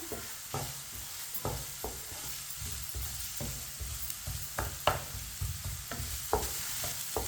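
Onions frying in a pan on a stove, a soft steady sizzle broken by repeated scraping stirs at an uneven rhythm, close and fairly quiet with no talk.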